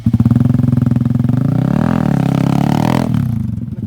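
A stunt motorcycle spins in place with its handlebar unlocked on a training track, the engine note loud and close, pulsing with the rotation and wavering in pitch before cutting off near the end.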